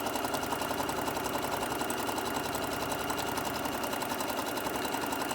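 A sewing machine runs steadily while stitching a small fabric tote bag, giving a fast even mechanical whir and rapid needle chatter, close and continuous without talk.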